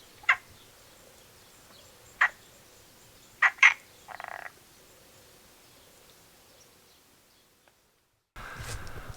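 Scattered frog croaks at dusk near trees, a few sharp calls spaced seconds apart and one short rattling burst, fairly faint over a quiet background before a brief rustle.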